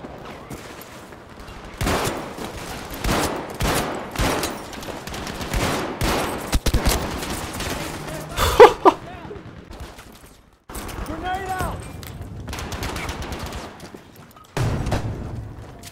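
Shotgun blasts in Battlefield 5 on Operation Underground, a series of loud, sharp booming shots spaced roughly a second apart amid other gunfire and explosions in close, echoing corridors, with a voice talking between bursts.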